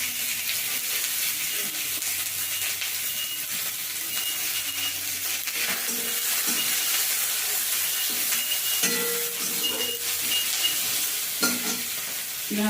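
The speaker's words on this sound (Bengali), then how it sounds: "পেঁয়াজটা একটু ভালো করে ভেজে নেবো।" Chopped onions fry in a pan, a close, steady sizzle with the scrape and clatter of stirring throughout and no talking.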